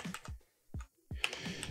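Short bursts of keystrokes on a computer keyboard, clustered clicks separated by brief pauses, close and fairly quiet, with no talk.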